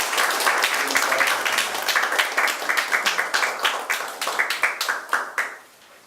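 A church congregation claps together in sustained applause, dense at first and then settling into rhythmic clapping before fading out at the end.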